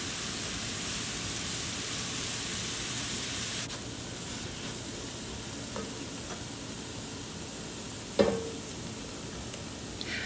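Vegetables browning in a pan for a bolognese sauce, a steady broad sizzle of frying throughout with a few light stirring clinks and one sharp utensil knock near the end.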